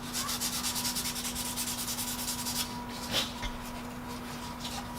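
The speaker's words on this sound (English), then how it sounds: "I'll have to use sandpaper to get into those curves." A small piece of sandpaper rubbed over spot putty in quick, rhythmic back-and-forth strokes for a couple of seconds, then slower, softer scratching, all close up over a steady low hum.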